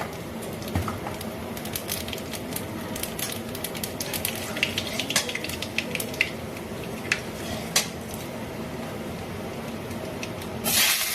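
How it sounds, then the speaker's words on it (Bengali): Nigella seeds crackle and sizzle in hot oil in a fish-frying pan, a steady close hiss with scattered sharp pops throughout and a louder burst near the end. "এখন এই মাছ ভাজার কড়াইতে তেল দিয়ে দিলাম। এখন এর মধ্যে দিয়ে দেবো একটু কালো জিরে"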